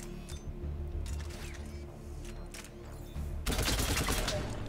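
Automatic fire from a Phaeston assault rifle in the game Mass Effect 3 breaks out loud and dense near the end, following a stretch of softer scattered pops and game ambience.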